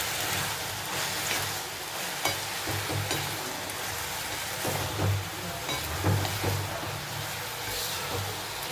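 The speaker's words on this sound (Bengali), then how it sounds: "দেখো এখানে মোটামুটি চিংড়িটা ভেজে নিচ্ছি" Prawns fry in a pan with a steady, close hiss and sizzle and a few small crackles and stirring clicks, with no talking.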